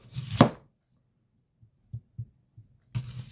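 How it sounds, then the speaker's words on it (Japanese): A knife slices onions crosswise into rings, giving a sharp cut at the start, then a few soft, sparse knocks on the board and another broad cutting burst at the end, all close and with no talk. "玉ねぎの切り方ですけど、今回はこの繊維に対して直角に切っていきます"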